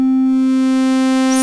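A synthesizer holds a continuous triangle-wave tone, a single sustained pitch with a rich stack of overtones and no pauses or speech.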